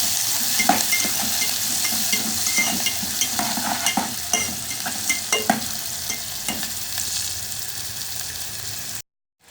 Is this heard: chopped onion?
yes